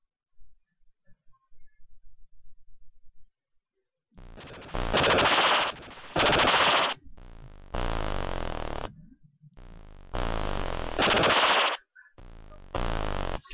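Shooting in Tron Deadly Disks on the Atari 2600, heard as loud buzzy electronic bursts of several bright blasts separated by brief gaps, after a few faint low blips at the start.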